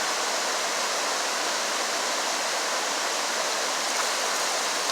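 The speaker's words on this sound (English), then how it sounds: "There were big boulders and cascades everywhere." Water cascades over big boulders in a mountain stream, a steady broad roaring rush that stays close and constant throughout, with no voices.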